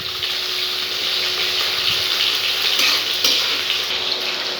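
Onions, capsicum and tomatoes sizzle in a hot pan while a fish dish is cooked. There is a continuous, loud hiss with a few light stirring scrapes, close up and with no talk.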